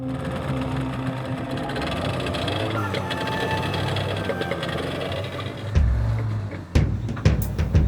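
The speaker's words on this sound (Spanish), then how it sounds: "Decidimos cambiar el motor por uno de 40 caballos" A 40-horsepower outboard motor drives a boat on a river in the jungle, holding a steady droning hum. Sharper knocks and bumps come near the end, and talk runs over it.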